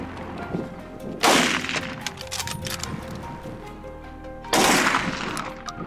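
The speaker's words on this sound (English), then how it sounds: "Without hesitation, I raised my rifle, timed my shot, and squeezed the trigger. A volley of shots rang out." Loud rifle shots ring out while hunting a wild boar: two sharp, powerful cracks a few seconds apart, each followed by a ringing tail, with quieter rustling between them.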